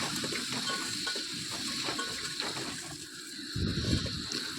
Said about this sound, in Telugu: అవి అందులో వేసుకొని ఒక 1 minute అటు ఇటు కలుపుకుంటూ ఫ్రై చేసుకోవాలన్నమాట